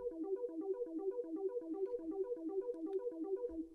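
A Syntronik software synth plays a short pluck preset through its basic arpeggiator pattern: a steady, even run of clipped, bright notes repeating at a quick tempo, loud and close with no voices.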